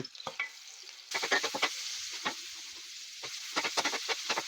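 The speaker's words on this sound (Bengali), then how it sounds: "মেরিনেট করা কলিজাটা এখন তেলের মধ্যে দিয়ে দিব। এটা প্রথমে ভালো করে ভাজতে হবে।" Marinated liver frying in oil, heard as a quiet sizzle with irregular bursts of scraping and stirring crackles that come in clusters, close by and without any talking.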